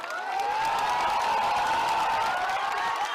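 A crowd at a Bihar election public rally in Sheohar claps and cheers in a steady, sustained roar, with a voice carrying over the noise.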